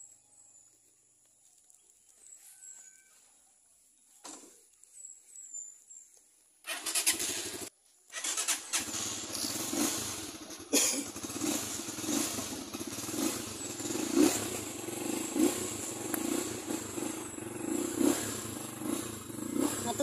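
A motorcycle engine sputters, catches and starts, then keeps running with a rough, revving growl close by, after some quiet shuffling at first.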